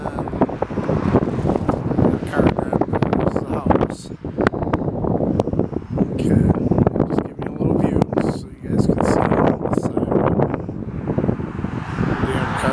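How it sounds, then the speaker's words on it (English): Strong gusts of wind buffet the microphone outdoors on a windy farm beside a barn, a loud continuous rumbling roar with brief lulls, under someone talking throughout. "sorry about the wind, it's always real windy out here."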